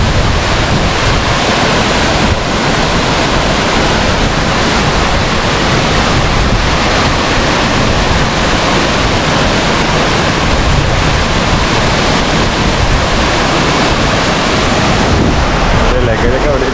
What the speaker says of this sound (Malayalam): ഭയങ്കര വെള്ളച്ചാട്ടമാണ് ഇതൊക്കെ.